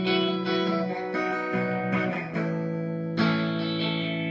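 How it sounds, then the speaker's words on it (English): Electric guitar through a Mu-Tron Bi-Phase phaser pedal, sustained chords with a sweeping, swirling phase tone, several strums played alone up close. "if I turn this guy on with the foot pedal, boom, I have your standard phaser"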